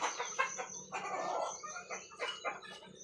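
Bantam chickens cluck and chatter continuously, several birds close by, with busy overlapping calls.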